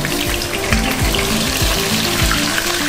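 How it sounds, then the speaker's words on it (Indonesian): Large jerbung shrimp fry in a hot pan for a stir-fried water spinach dish with tauco, giving a loud, steady close sizzle and crackle with some stirring scrapes and no talk. "sekarang kita goreng dulu udangnya"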